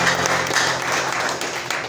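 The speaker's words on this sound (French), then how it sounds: "Just clap your hands for the Lord." A church congregation claps hands for the Lord in a dense, continuous round of applause, loud at first and then slightly fading, with faint voices underneath.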